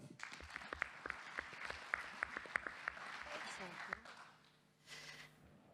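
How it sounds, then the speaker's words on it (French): Audience clapping at a business convention, a scatter of distinct claps building briefly into moderate applause that fades out, with a voice talking over it. "applaudissements pour France"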